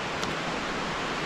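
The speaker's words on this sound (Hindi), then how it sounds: "पीछे माँ मंदाकिनी की कलकल धाराएं की आवाज़ आप सुन रहे होंगे" Steady broadband rush of the Mandakini river's flowing stream at Chitrakoot, a continuous even wash of water with no talk.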